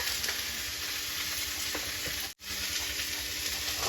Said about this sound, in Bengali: এদিকে আমি কুচিটা ভেজে নিচ্ছি, কুচিটা খুব ভালো করে ভেজে নেব